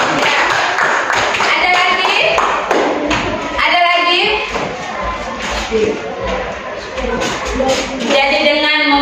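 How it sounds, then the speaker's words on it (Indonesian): A school classroom claps for a classmate, a ragged burst of hand claps mixed with children's voices and chatter throughout. "kita tepuk tangan untuk teman kita"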